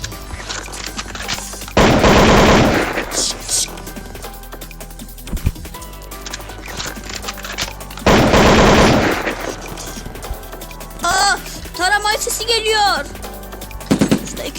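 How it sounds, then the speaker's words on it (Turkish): Automatic gunfire in the PUBG video game: two loud sustained bursts of machine-gun fire, each about two seconds, with quieter game sounds between and a flurry of high chirping tones near the end. "Bir de tarama sesi duydum."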